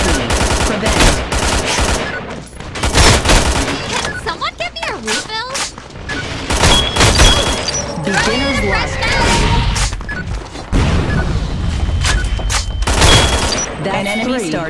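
Grenade blasts and sustained automatic gunfire rip through a Metro Conflict firefight, loud and near, with booming explosions, rapid bursts and intermittent game voice lines layered over the battle.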